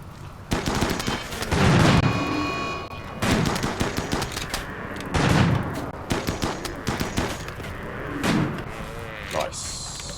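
Gunfire from colonists' weapons in RimWorld: bursts of sharp shots and rapid machine-gun-like rattles, mixed with heavy thuds, coming in several separate volleys over about ten seconds.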